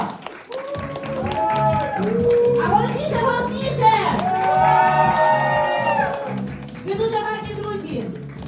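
Wedding guests at a reception clap and cheer as the couple is welcomed, a crowd sound mixed under loud music with singing that dominates throughout.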